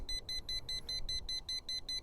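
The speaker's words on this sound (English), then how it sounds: "whatever reason it's beeping" Rapid high-pitched electronic beeping from a Schumacher 800 amp jump starter, model SL1396, about ten short evenly spaced beeps repeating steadily, close and clear over a faint low hum.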